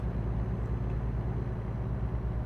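A heavy truck engine in the driving game American Truck Simulator drones with a deep, throaty, steady rumble, loud and continuous throughout with no pauses.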